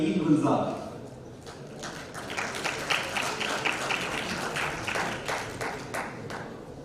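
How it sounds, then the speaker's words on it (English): At an international conference on knowledge-based textiles, an audience claps for a guest of honor; a brief spoken phrase opens, then a room-filling round of applause swells and carries on steadily to the end. "A huge round of applause for Mr."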